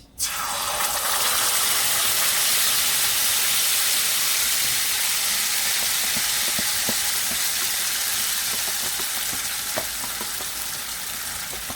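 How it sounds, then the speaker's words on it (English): Loud, steady sizzling of beef curry with garlic, onion and masala frying in hot oil, a dense crackling hiss that fills the whole stretch with occasional sharper pops. "now I'm gonna start frying up the curry. The oil is hot."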